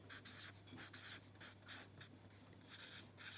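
A pen or pencil writes a maths word problem by hand on paper, a quiet close series of quick scratchy strokes in short bursts, with a faint steady hum beneath and no voices.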